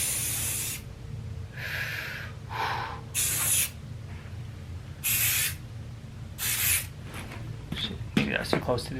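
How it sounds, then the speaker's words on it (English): Spray paint can hissing in several separate bursts of a second or so each, close and loud, with short gaps and some handling noise between sprays. "spray paint it, let it dry, do second coat, let it dry, and do a third coat"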